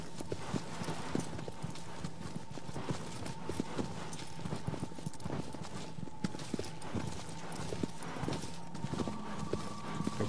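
Horse hooves clip-clopping in the PS4 game Shadow of the Colossus, a steady walking rhythm of close, clear hoofbeats over a faint tonal hum from the game's ambience.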